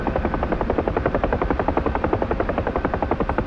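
A UH-1 Huey helicopter in the DCS flight simulator, its rotor thumping in a steady, fast rhythmic chop that stays loud and constant throughout, with no voices over it.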